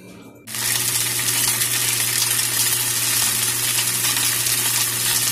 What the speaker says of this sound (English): my meat is finishing searing